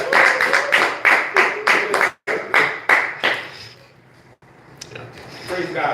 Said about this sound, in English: give a nice round of applause to Matthias